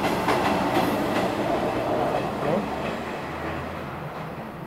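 A train rolls past with a rumbling clickety-clack of wheels over the rails, moderately close, fading somewhat toward the end, while someone talks over it.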